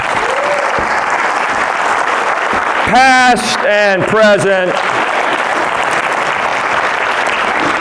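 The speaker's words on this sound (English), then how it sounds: "Clap for all these educators in your midst." Steady applause from a stand-up comedy audience fills the clip, with the comedian speaking over it for a few seconds in the middle.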